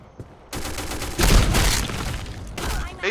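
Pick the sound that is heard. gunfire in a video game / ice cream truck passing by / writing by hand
gunfire in a video game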